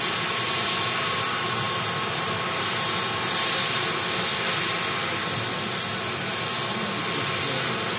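Boeing 787 Dreamliner jet lining up on runway 23 left at Manchester Airport, a steady broad engine roar and hiss, distant and unbroken across the whole span, without voices.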